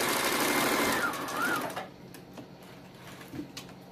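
A sewing machine runs steadily, stitching back stitches through a baby slipper's fabric casing, then stops, leaving a quieter room with faint clicks and handling noises.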